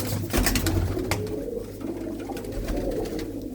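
Pigeons coo in a low, repeated throaty rhythm, close by, with faint rustling and no talk; the birds are white-eyed pigeons of a blue-footed breed.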